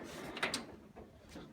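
The top drawer of a Snap-On/Pittsburgh tool box slides open in a garage, a short metallic rattling glide with a sharper scrape near the start, then quieter rumbling, close by and without speech.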